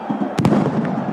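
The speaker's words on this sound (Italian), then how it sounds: "L'esplosione fragorosa, chiaramente avvertibile, è quella di uno degli ordigni piovuti sul terreno di gioco" An explosive device thrown onto a football pitch during a match goes off in two sharp, loud bangs close together amid a dense stadium crowd roar.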